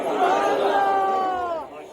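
A crowd at a religious gathering, a Muslim sermon in Uch Sharif, chants a religious slogan in unison, a loud sustained call of many voices that holds steady before fading out.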